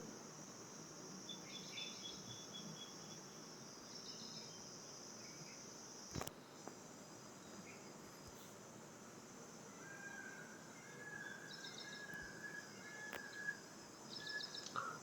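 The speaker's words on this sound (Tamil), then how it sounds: "நிறைய வந்து பறவைகள் சத்தம், மயிலகவும் சத்தம் ஆகியவற்றையும் கேட்க முடியுது." Birds and peacocks call faintly around a quiet rural Shiva temple in natural surroundings, set over a steady outdoor chorus of insect buzz, with occasional thin high calls and a few soft knocks.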